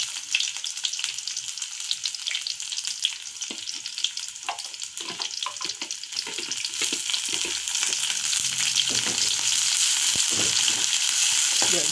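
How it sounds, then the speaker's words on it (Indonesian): Shallots and garlic sauté in a little oil for yellow-spiced intestines, giving a steady, close sizzle with occasional stirring scrapes that grows slightly louder and denser toward the end. "Ya, kita tumis sampai sedikit menguning dan aromanya tercium."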